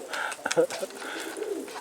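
Pigeons coo in brief soft pulses close by, among domestic pigeons kept by a fancier in Switzerland, with people talking over and between the calls.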